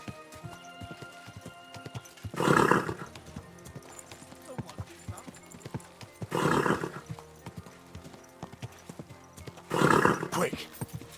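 Horse hooves clip-clop in the video game Kingdom Come: Deliverance II, with three loud bursts of hoofbeats and neighing spaced a few seconds apart over a quieter game soundscape.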